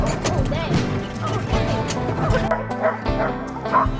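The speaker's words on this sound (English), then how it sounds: "We climbed into a wheeled sled cart and were pulled by dog teams along the trail." Iditarod sled dogs bark and yip excitedly along an Alaskan trail, many overlapping barks from a pack, some near and loud, others whimpering, with brief moments of speech.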